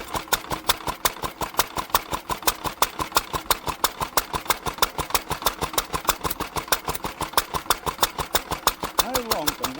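An old single-cylinder Lister D engine, found in a barn and restarted after over 30 years, chugs steadily on petrol with loud, rapid, evenly spaced exhaust pops, close up with no exhaust fitted, while someone speaks briefly near the end.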